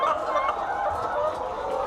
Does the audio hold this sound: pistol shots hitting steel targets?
no